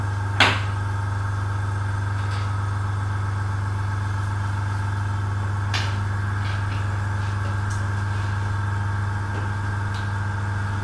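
An airbrush compressor motor runs steadily, a loud, even mechanical hum that holds the whole time, with a sharp click near the start and another faint one midway.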